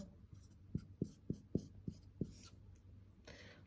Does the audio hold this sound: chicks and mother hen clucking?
no